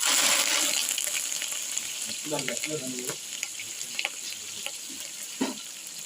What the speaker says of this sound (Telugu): పచ్చిమిరపకాయలు వేసాం. కరివేపాకు వేసాను.